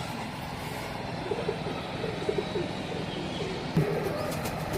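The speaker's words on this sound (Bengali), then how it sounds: "এটা আমার রাজশাহী লোকাল গিরিবাজ কবুতর, আমি নাম দিয়েছি ছোট পিলম কবুতরটা।" Low, soft coos of a Rajshahi local Giribaz pigeon repeat in short phrases over a steady background hum, with distant traffic faintly audible.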